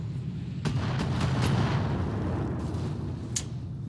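Missile volleys fired by a mech in the BattleTech video game, a dense roaring rumble of launches and distant booms with a few sharp cracks, sustained and loud throughout.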